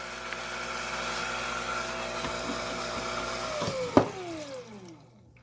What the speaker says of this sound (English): we're down here on my Kingsley North 6-inch cabbing machine